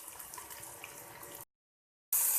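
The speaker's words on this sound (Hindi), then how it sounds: "थोड़ा सा पानी डाल देंगे" Water poured into a pan of spiced arvi (taro root) as it cooks, a steady running pour heard up close, broken by a brief silent gap before a louder burst resumes.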